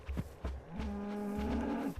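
Cows moo in the video game Minecraft, a couple of short low grunts followed by a longer drawn-out moo, loud and close.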